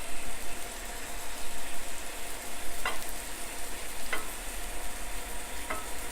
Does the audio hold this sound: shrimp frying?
yes